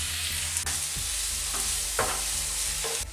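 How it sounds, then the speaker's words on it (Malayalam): Sliced onions and bird's eye chillies sauté in hot oil in a pan for a Kerala thalu curry, a steady close sizzle broken by several scraping stirs of a spoon, with no talk. "ഇതിലേക്ക് സവാളയും കാന്താരിയും കൂടി ഇട്ട് കൊടുക്കാം."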